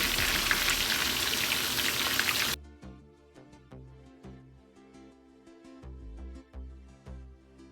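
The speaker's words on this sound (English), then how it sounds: "frying the fish. I'm using some vegetable oil." Fish fries in hot vegetable oil seasoned with garlic, a dense, loud crackling sizzle that cuts off abruptly after a couple of seconds, giving way to quieter music.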